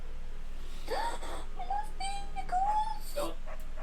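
A beagle in a video game lets out a few thin, high whimpering whines, short wavering cries spread across a few seconds over a steady low game background.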